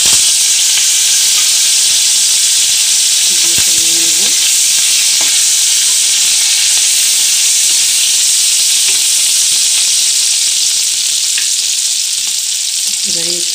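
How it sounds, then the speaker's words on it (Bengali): Chopped onion, green chillies and curry leaves sizzle steadily in hot oil as a tempering, a loud continuous frying hiss with occasional stirring clinks, no talking. "এবারে আমরা ফোড়ন দেবো। এখানে আছে কুচনো পেঁয়াজ আর 2-3টে কাঁচা লঙ্কা কুচি আর কারি পাতা।"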